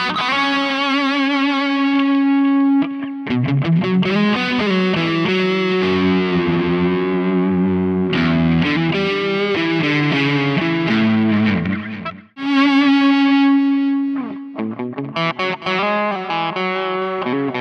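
Distorted electric guitar played through a Soldano amp model on a Harley Benton DNAfx GiT multi-effect with noise gate, loud sustained chords and riffs with short breaks, alone without talk.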